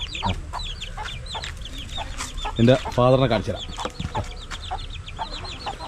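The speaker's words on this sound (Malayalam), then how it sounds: "ഇപ്പോൾ കണ്ടതിന് തൊട്ട് മുമ്പേ വിരിഞ്ഞ ബാച്ചിലുള്ള ഒരു കോഴിയാണ് കേട്ടോ" A hen clucks beside her newly hatched chicks, whose high peeps scatter throughout, with a voice talking over them and a louder burst of calls in the middle.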